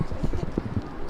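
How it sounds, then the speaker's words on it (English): Horse hooves clip-clop on a London street in a quick, uneven run of close hoof strikes, heard under a low background hum with voices nearby. "Horses?"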